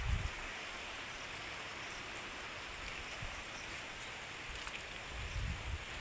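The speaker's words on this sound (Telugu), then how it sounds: "చూడండి ఫ్రెండ్స్, వర్షం ఎలా పడుతుందో." Steady rain falls outdoors near a company compound and palm oil plantation, a dense, even hiss of drops on surfaces that holds constant throughout with no voices.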